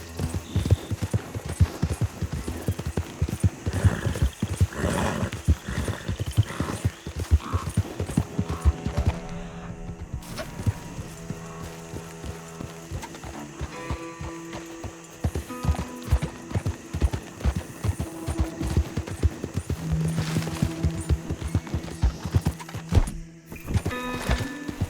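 Horse hooves clip-clop steadily on the ground in the Red Dead Redemption 2 video game, a busy rhythmic trot under game music and ambience, with a brief horse whinny.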